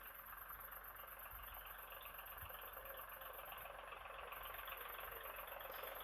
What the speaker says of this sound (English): There's a tractor running in the background.